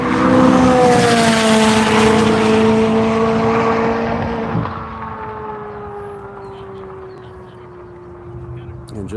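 Tim White's Penguin Garage Trash Rita Corvette race car roars past at Grattan track, a loud engine note that rises and then fades into the distance, with a commentator talking over it.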